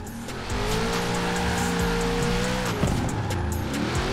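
In Forza Horizon 4, a Ford Transit van drifts with a sustained loud tire squeal over a droning engine, steady and continuous throughout.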